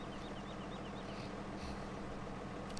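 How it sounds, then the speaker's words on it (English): A tractor engine idles steadily nearby, a continuous low, even rumble with no talking. "It's a nice tractor to use."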